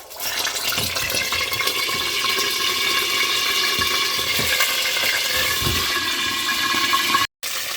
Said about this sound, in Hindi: अब थोड़ा सा हल्का सा पानी डाल देंगे, लेकिन फ्लेम हमने लो रखना है।